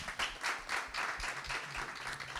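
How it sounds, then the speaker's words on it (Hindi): Audience applause for panelists at an entrepreneur conclave panel discussion, a soft, fairly distant patter of clapping from a modest crowd throughout. "तो ये पैनल डिस्कशन के लिए हमारे पैनलिस्ट के लिए जोरदार तालियां होनी चाहिए।"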